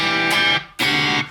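Electric guitar played through a Brit 203 amp with treble and presence turned all the way up, giving two loud, harsh, bright distorted chords, each ringing about half a second with a short gap between them.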